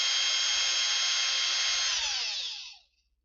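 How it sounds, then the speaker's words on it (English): A power drill with a bit whines steadily as it evens out the screw holes in a guitar pickguard, running close and loud for about two and a half seconds before spinning down to silence. "I'm just taking this drill bit and just evening these holes out."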